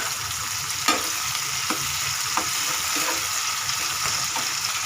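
Bell pepper (capsicum) frying in a pan, with a dense steady sizzle and a few scraping stirs of a spatula.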